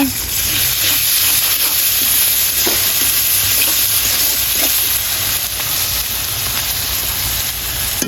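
Garlic paste hits a pan with beef tongue and fries loudly, a dense continuous hiss and roar close up, with a few soft stirring knocks and no voices.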